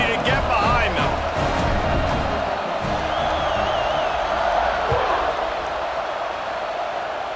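Football stadium crowd at a Washington game, a loud sustained roar of cheering and whoops with a brief whistle, steady and dense throughout.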